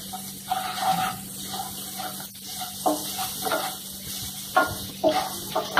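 Onions fry in a pan with turmeric powder, giving a soft intermittent sizzle broken by stirring scrapes over a steady low hum.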